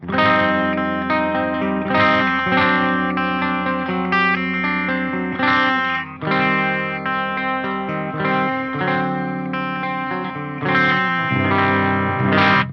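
Ibanez Flying V electric guitar on the bridge pickup through a clean amp, bright and sustained chords ringing out with crisp upper mids, played alone.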